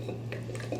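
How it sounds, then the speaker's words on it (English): Spatula scraping the bottom of a mixing bowl of butter and cream cheese frosting, a brief soft scrape and light knock over a steady background hum, close up. "We're gonna scrape again the bottom to make sure all my butter and cream cheese is nicely incorporated."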